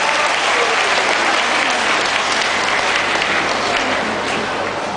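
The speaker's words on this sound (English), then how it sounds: "So a big round of applause for our foundation pupils." An audience at a school results announcement gives a sustained, even round of applause for foundation pupils, a thick wash of many hands clapping together at moderate loudness throughout.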